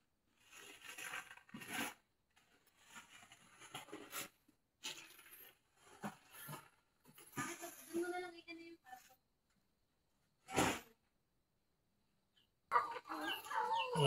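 Pet chickens cluck in short bursts nearby on a lot, with scattered rustling and quiet gaps between calls.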